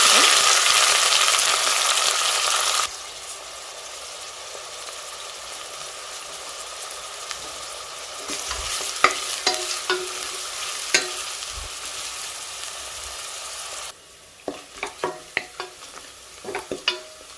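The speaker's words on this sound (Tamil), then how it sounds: "நான் இன்றைக்கி எண்ணெயில் தான் தாளிக்க போகிறேன்" Hot oil sizzling loudly in a pan, dropping to a softer fry as cloves, cardamom and sliced onions go in, with occasional spoon scrapes and clinks against the pot.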